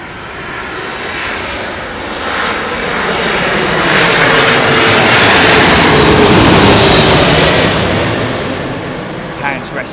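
A plane landing at London Heathrow Airport, heard as a loud, steady engine roar with broadband rumble that swells through the middle and eases toward the end, close and continuous, with a few faint clicks at the finish.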